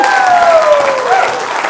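An audience at a motivational speaking event breaks into loud, sustained applause and cheering, with a sliding vocal whoop cutting across the clapping.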